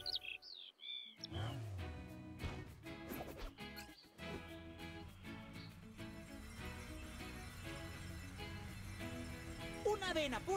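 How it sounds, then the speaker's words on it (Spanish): Bright songbird chirps come from a Paw Patrol mobile game, mixed into upbeat game music and effects, with a child-voiced narrator speaking Spanish over the sounds. "¡Mira! ¡Un pájaro cantor!"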